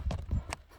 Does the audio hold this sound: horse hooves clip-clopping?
yes